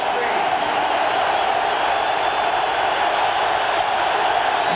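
A stadium crowd at a 1999 American football game between Miami and Seattle gives off a steady, broad roar that builds and holds throughout, sitting close to a commentator who talks over it.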